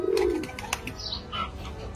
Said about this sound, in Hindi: इस बाग में जो है कबूतर भी मौजूद हैं, आप देख सकते हैं।